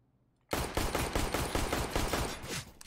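After a quiet half second, a loud rapid string of Desert Eagle pistol shots in CS:GO fires close by, the evenly spaced cracks running for over two seconds.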